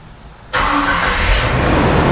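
Replacement Jasper 4.0L engine in a 1997 Jeep TJ Wrangler cranks and fires up abruptly after a quiet moment, then settles into a loud, close, steady running rumble with a slight rise in revs.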